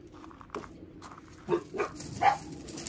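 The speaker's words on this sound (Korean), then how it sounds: "뭘 보고 그렇게 짖냐" A dog barks in several short, separate outbursts, moderately close and of medium loudness, spread irregularly across a quiet outdoor morning with no talking.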